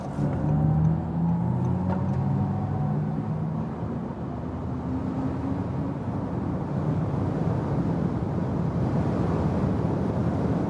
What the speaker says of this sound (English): we will accelerate it out to 200 kilometers an hour or 125 miles